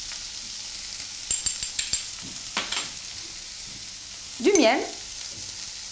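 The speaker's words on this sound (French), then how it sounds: "Dans une poêle chaude, mettre un filet d'huile d'olive et mettre les carottes et les oignons hachés avec une pincée de sel fin" Chopped carrots and onions with a pinch of salt frying in olive oil in a hot pan, a steady low sizzle under a few clicks and a utensil scrape, while a voice speaks briefly.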